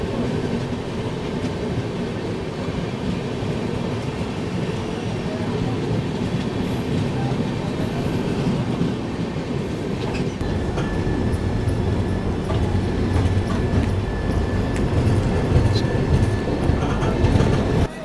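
The Golden Temple Mail train runs along the track with a loud, continuous rumble and rhythmic clatter of wheels, steady throughout, with faint voices in the background.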